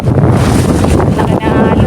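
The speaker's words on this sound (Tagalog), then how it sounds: "Laki ng alon." Large sea waves surging onto a beach at high tide, a continuous loud broadband wash with heavy wind buffeting on the microphone and voices talking over it.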